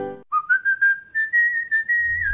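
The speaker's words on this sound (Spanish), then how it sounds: "es el silbido corajudo" A clear, loud melodic whistle from a Carrefour supermarket advert: a single sustained tune with several rising and falling pitch swells over about two seconds, heard alone with no talking.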